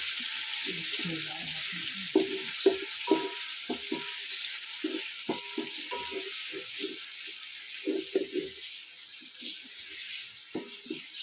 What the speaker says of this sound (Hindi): इसे हल्का सा ब्राउन करेंगे और इसमें चिकन फ्राई करेंगे।